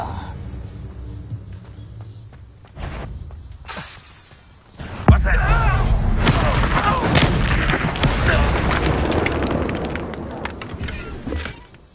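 A Depulso spell blast in the video game Hogwarts Legacy hits with a sudden loud boom and shattering burst, followed by several seconds of crashing, rumbling debris; a voice is heard beforehand.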